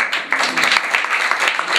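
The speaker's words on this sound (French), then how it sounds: "Très bien, applaudissez." A class of pupils applauds in a French support lesson, with brisk, close, uneven clapping that lasts under two seconds.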